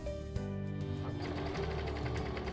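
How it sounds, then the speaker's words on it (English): A Brother 1034D serger stitches through fabric, a steady close mechanical whir with a fast rhythmic chatter running continuously, with no speech. "Slide the fabric under the foot and serge."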